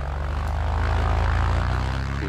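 A Cessna's engine and propeller roar steadily and close during takeoff, with a strong low throbbing drone and a pulsing propeller beat under a broad rushing noise.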